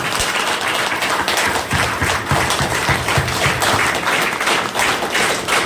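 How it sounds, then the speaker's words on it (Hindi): Loud, sustained applause from a crowd at a celebration function seminar, dense and continuous clapping filling the whole stretch without a break. "एक बार जोरदार तालियां अपने लिए बजा दीजिए सर, जोरदार।"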